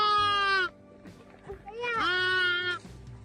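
A lamb bleats twice, loud and close, each call a wavering, harmonic cry lasting about a second, with a brief quiet gap between them.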